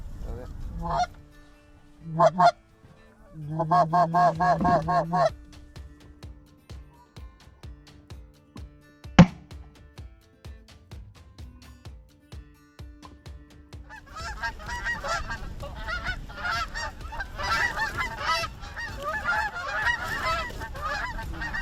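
Geese in a flock honk repeatedly while flying over a waterfowl hunting blind in Maryland, bursts of calls close then fading, with a sharp click partway and more distant honking and rustle later.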